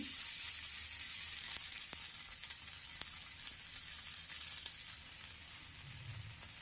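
A sweet potato and ragi paratha sizzles steadily on a hot pan, a continuous close frying crackle with a few faint clicks.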